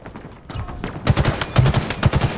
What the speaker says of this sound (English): I shot him twice, I hit him with a melee, and he's not dead.